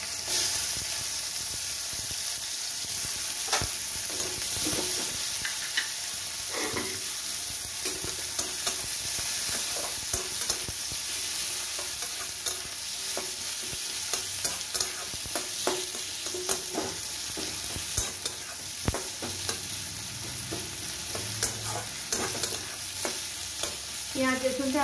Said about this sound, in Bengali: পেঁয়াজ রসুনটা আমি বেশ ভালো করে একটু ভেজে নেব